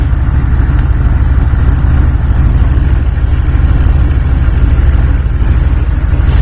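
Engine of a 1993 Chevy 350 truck runs loud and close in a steady, even idle with a low rhythmic throb and no voices.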